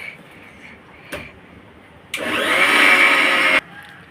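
A mixer grinder grinding curry masala: a short motor burst, then a loud, steady whirring grind lasting about a second and a half that stops abruptly, heard close with faint background noise.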